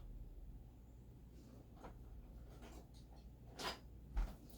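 Chalk wheel rolled across fabric to mark a cutting line, producing faint, soft scratchy rubbing strokes over a quiet room hum, with one brief thump near the end.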